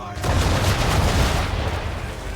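Naval ship cannons fire in rolling, overlapping booms at targets during an Assassin's Creed III sea battle, a loud sustained barrage with deep rumbling low end and no talk over it.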